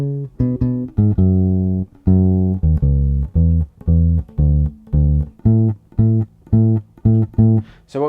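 A bass guitar plays four bars of a bridge passage, a run of loud, clear, close plucked notes in a steady rhythm, each note ringing briefly before the next, alone with no backing or talk.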